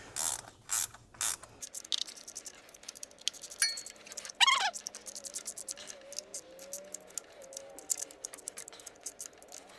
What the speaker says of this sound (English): My little ratchet's trying to come apart on me.